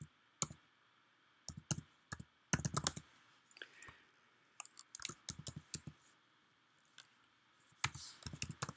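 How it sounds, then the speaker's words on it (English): An email address is typed on a computer keyboard in quick irregular clusters of crisp close key clicks, with short pauses between bursts and no voices. "We'll type in Gary's email."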